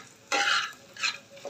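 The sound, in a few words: frying lentil fritters in fish oil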